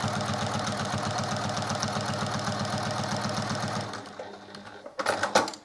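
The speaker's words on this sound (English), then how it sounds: "So even though you're still just sewing in straight lines," A sewing machine stitches straight quilting lines on a quilt, a steady fast mechanical chatter running continuously, then stopping and giving way to a few light clicks and handling knocks.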